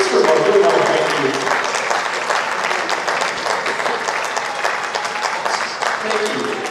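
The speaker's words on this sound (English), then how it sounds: "I'd love to give a round of applause" Sustained applause from an audience at an Africa Day 2018 event, steady loud clapping throughout with a slight easing toward the end.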